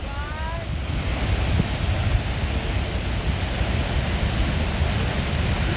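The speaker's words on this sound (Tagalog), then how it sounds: "Hala, kadako ani nga falls guys." Niludhan Falls, a large waterfall in Dawis, Bayawan, Negros Oriental, roars as a dense, steady, loud rush of water, with a faint brief voice at the start.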